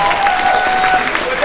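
A comedy-horror fan convention crowd at Scarefest 2016 applauds, loud and continuous broadband clapping filling a short burst, with a faint steady tone running underneath.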